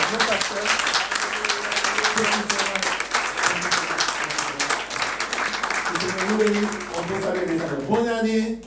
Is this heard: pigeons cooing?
no